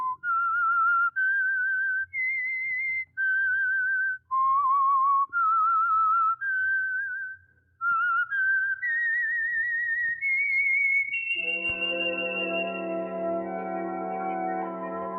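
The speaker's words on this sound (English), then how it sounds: "Let that whistle be your signal" A clear, melodic whistled tune of sustained notes, alone and close, ending as a bright orchestral chord swells in.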